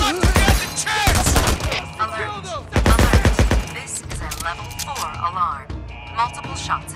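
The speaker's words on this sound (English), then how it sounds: "Multiple shots have been fired." Gunfire in the Days Gone video game: sharp, loud bursts of rapid shots in clustered volleys, mixed with shouting voices and other game sounds.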